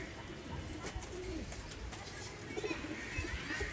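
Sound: Kamagar pigeons cooing

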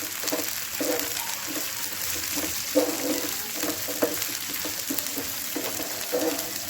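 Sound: green peas frying in a pan for potato bhurji

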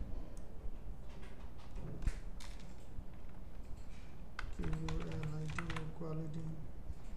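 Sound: typing text on a computer keyboard

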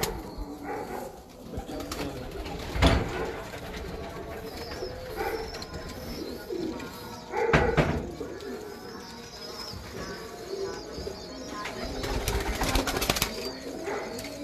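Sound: breeder pigeons cooing

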